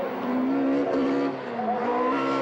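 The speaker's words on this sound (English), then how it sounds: "Leferrand driving very cleanly with the powerful 306 Maxi" Peugeot 306 Maxi rallycross car racing hard at Circuit de Kerlabo in France, its engine holding a loud, steady high-revving note that rises and falls with gear changes, close and continuous throughout.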